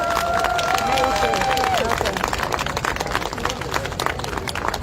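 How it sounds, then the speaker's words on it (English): An outdoor rally crowd at Parliament Square breaks into a burst of clapping and cheering, with a whistle-like tone at the start and scattered voices mixed in as the applause carries on. "Massive round of applause for Lisa."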